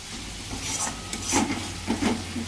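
Spices with turmeric, Kashmiri chili powder and tomato sauce are stirred and fried in a pan for a fish and cauliflower curry, giving a steady close sizzle with soft scraping strokes throughout.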